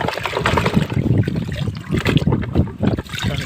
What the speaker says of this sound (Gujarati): ટ્રેક્ટરને પાછું ધોઈ નાખ્યું